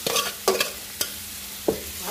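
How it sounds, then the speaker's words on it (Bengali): Shredded cabbage fries in a hot pan, a steady close sizzle broken by four or five sharp scraping stirs of a spoon against the pan. "এরপর বাঁধাকপিটা দিয়ে দিব, দিয়ে ভাজা ভাজা করে দিব ভালো করে"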